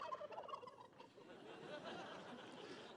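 A Thanksgiving turkey gobbles at the White House pardon ceremony, a burst of rapid gobbling calls up close at the start that fades into steady crowd and room noise, with no talk over it.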